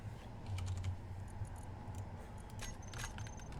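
Quiet, light typing on a computer keyboard, a short run of soft irregular key taps over a steady low background hum.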